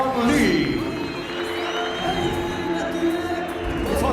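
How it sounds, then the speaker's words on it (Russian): A crowd claps and cheers at a mixed martial arts fight night in Grozny, a dense, steady roar of applause and shouts throughout, with someone talking over it. "Аплодисменты его сопернику Фон Ли."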